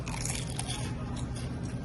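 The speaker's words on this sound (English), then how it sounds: "You can probably hear the crunch of these tornado bites or tornado fries" Crispy tornado fries are bitten into at a burger restaurant, giving a close, crackly crunch. The crisp sounds carry over steady background noise in a short burst without talk.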